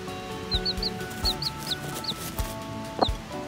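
Wyandotte chicks peeping in a brooder, with a series of short, high chirps repeating at irregular intervals over a low background hum and some soft rustling, near and moderately loud.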